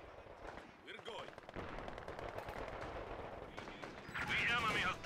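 Bursts of automatic and rifle gunfire in the Company of Heroes 2 strategy game, rapid rattling volleys through a busy battle soundscape with a louder, harsher flurry near the end.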